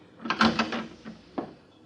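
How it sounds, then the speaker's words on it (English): A door opens in an old-time radio drama as a sound effect: a quick cluster of close knocks and latch clatter, then a single sharper click a moment later, with quiet in between. "I found a door marked private and used it."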